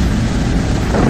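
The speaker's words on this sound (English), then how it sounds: "Gee, lightning struck right there." In a tornado survival video game, a loud, close thunder rumble from a lightning strike rolls on with dense storm noise and no clear break.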